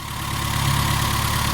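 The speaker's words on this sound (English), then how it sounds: "Okay, so I've got the engine running." Car engine fitted with an HIF44 carburettor running at a steady idle, a close, even mechanical hum with a low throb that swells slightly and holds, no voices over it.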